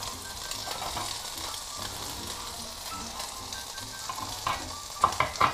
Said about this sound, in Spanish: Dejamos que se caramelicen con el azúcar.